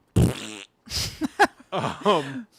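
A voice imitates a fart with a few blurting, buzzy mouth noises in quick succession, loud and close, as a comic jab at a direct-to-video Amityville horror sequel.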